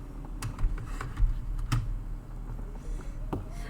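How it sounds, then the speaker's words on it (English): Typing on a computer keyboard: close, quick, irregular key clicks over a low hum, with occasional heavier key strikes. "You like the sound of my typing?"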